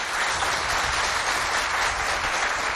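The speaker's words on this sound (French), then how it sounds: "Acclamez pour vous." A crowd of students and families at a school competition applauds steadily, a dense, even wash of clapping that holds loud and unbroken from start to finish.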